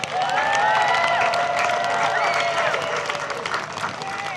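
Audience applause and cheering for a university concert band, dense clapping that holds steady throughout with shouts and whistles from the crowd, tapering slightly toward the end.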